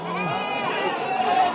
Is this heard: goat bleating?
yes